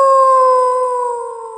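A dog gives one long, drawn-out, tonal howl that holds steady and then slowly fades, heard clearly and alone.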